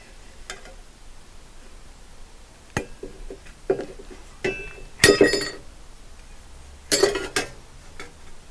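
Tin snips cutting metal during a glass balustrade installation on a deck, with scattered clicks leading to two louder bursts of snipping and clinking, close by and with no talk.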